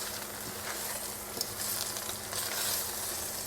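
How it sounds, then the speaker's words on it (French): Steady sizzling of spinach shoots cooking in a hot saucepan, a continuous crackle with a few brief stirring clatters, close and fairly quiet. "On va faire cuire quelques pousses d'épinards dans notre casserole qui est bien chaude."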